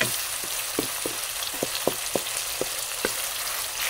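Squid adobo frying in a pan, a steady close sizzle with a run of sharp pops and crackles spaced through it, no voices.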